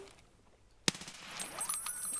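A single sharp gunshot cracks out in Escape From Tarkov while shooting at scavs, followed by a short ringing tail and faint game ambience after a quiet stretch.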